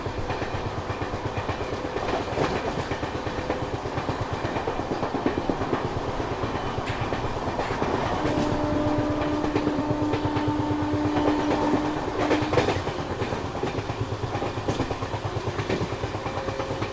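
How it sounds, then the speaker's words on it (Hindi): The Rajdhani Express runs through Narkhed railway station, heard from on board as a loud, continuous rumble with rhythmic clickety-clack of wheels over rail joints. A faint tonal squeal rises partway through. "और ये हम क्रॉस कर रहे हैं नरखेड़ रेलवे स्टेशन को"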